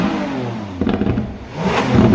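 A Lamborghini Aventador V12 engine revs up sharply, rising in pitch with a harsh, raspy roar, loud and close.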